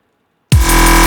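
Growl bass patch in Native Instruments Massive, dry with effects off, starting abruptly after half a second of silence as a loud, harsh, sustained gritty bass tone.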